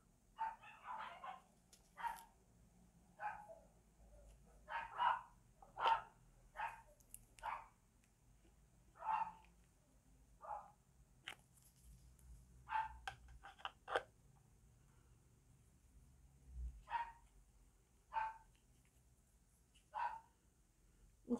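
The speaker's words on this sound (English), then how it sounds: "the dog is just barking now." Dog barking indoors at a distance, a long series of single and doubled barks spaced irregularly over about twenty seconds against a quiet background.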